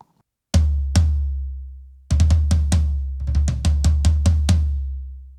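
Floor tom struck with two mini muffs clipped onto its rim, giving deep booming hits: two single strokes with long decays, then a run of about a dozen evenly spaced hits ringing out together, close and loud.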